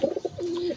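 Pigeons coo inside a pigeon house, a few short throaty pulses followed by one sustained low coo, close and fairly loud with no talk.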